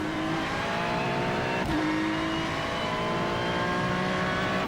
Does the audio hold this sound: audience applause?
no